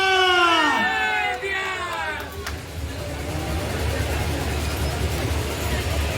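Crowd at a Jan Suraaj political rally in Bihar cheering and raising a chant, a whooping swell of voices at the start that settles into a steady murmur of the gathering, with a speaker talking over it.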